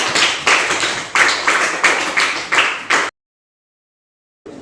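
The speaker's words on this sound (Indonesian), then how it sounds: "Kita berikan tepuk tangan sekali lagi." A classroom of students claps together in a steady rhythmic pattern of short, loud bursts for about three seconds, then the room falls abruptly silent.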